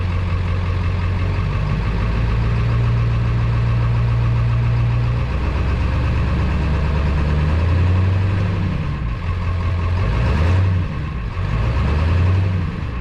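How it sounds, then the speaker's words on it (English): 7.3 diesel engine running just after a new KC300X turbo install, a loud, close, steady rumbling idle with a deep droning tone that briefly dips and rises, no voices over it. "First crank with the new turbo."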